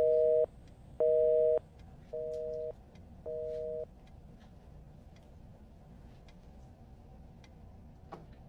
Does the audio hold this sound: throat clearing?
no